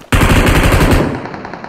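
Rapid automatic machine-gun fire in a video game: a loud, continuous burst of shots that holds steady for about a second, then tails off and fades.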